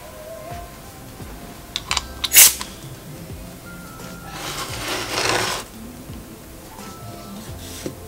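A short burst of hissing spray of Propan Melamine Impra clear matte wood finish, then a longer steady spray hiss a few seconds later, between quiet handling and tapping noises.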